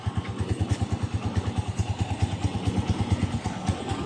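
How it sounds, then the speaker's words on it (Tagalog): A motorcycle engine idles steadily up close, its even, rapid low thumping and mechanical clatter continuing without change and without any talk. "Matiining po yung andar po ito."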